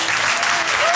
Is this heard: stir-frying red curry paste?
no